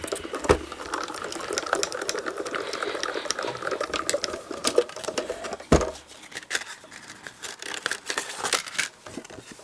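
A manual die-cutting press runs a deckle edge nesting die through, giving a steady grinding, crinkling mechanical rumble with a couple of sharp clunks, close and continuous, without talk.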